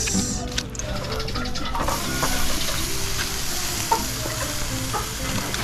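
A second batch of chicken inasal sizzles loudly as it goes onto the hot cooking surface, a dense steady crackling hiss up close with a few brief clinks, and a voice speaks faintly underneath.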